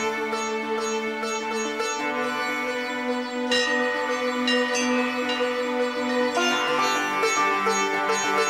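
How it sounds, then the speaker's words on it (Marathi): Bell chimes ring out in sustained, shimmering tones, with fresh strikes layering over the fading resonance. No speech is heard. "खरंच घंटानाद झाला की काय?"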